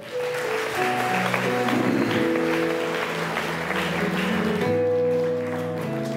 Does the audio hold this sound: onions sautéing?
no